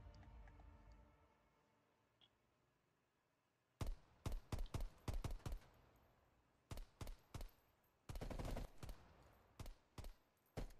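Gunfire in a Call of Duty: Black Ops Cold War prop hunt match: after a quiet opening, a run of sharp shots comes in uneven bursts, some single cracks and some rapid clusters, close and loud.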